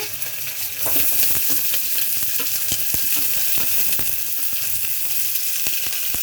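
Chopped onions fry in a pan for a ridge gourd palya, giving a steady, close crackling sizzle with scattered sharp pops and stirring scrapes throughout.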